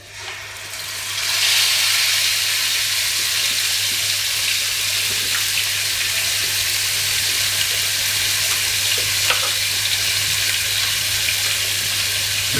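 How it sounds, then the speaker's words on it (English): Harissa paste dropped straight into a hot pan, a sudden loud hiss that settles into a steady, bright, continuous sizzle close up, with no talk. "We're just going to cook that out a little bit. So straight in the pan."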